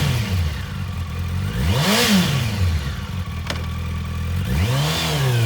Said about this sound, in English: This bike is running beautifully.